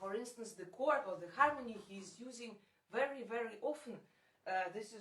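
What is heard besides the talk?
No distinct noise like a dog, phone or traffic.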